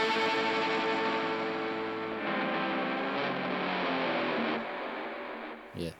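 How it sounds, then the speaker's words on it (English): An electric guitar's delay tail carries over after playing stops, with distorted, echoing repeats that hang on and slowly fade, before a brief faint sound near the end. "And the delay just carries over."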